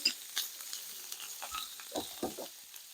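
Shrimp sizzling in a hot pan with shallots as they are laid in, a steady soft frying hiss broken by a few quiet clicks and stirring taps, close and moderately quiet with no talking.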